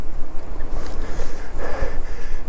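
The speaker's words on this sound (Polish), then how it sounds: "Ale pizgo, ale takim ciepłym wiatrem wyje" Strong warm wind blowing and buffeting outdoors, a steady broadband roar with gusty surges and microphone rumble, close and fairly loud with no voices.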